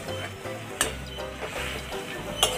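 Fried potatoes, for a Bengali mete alu dum, are turned slowly in a pan with a spoon, giving soft scraping and sizzling, with a couple of sharper clinks against the metal and a low steady hum beneath.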